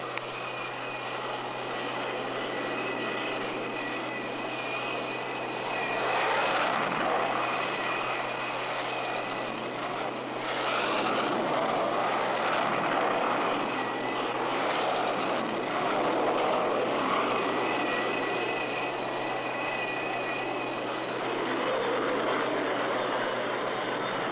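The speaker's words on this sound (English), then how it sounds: "Launch aircraft." Propeller aircraft launching from an aircraft carrier deck into about 30 knots of wind, a steady loud engine drone and roar that swells and recedes as planes take off in sequence, with no talk.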